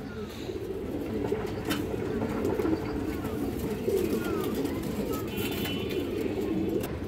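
A pair of pigeons, a male and a female, cooing close by in a loft with a steady throaty rolling murmur, continuous and fairly loud, with faint chirps from other birds behind.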